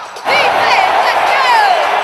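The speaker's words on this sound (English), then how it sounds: "cheering on the Atlanta Falcons" A large crowd at an Atlanta Falcons football game in the Georgia Dome roars and cheers, loud and sustained, with whistles cutting through a dense wall of voices that swells in just after the start.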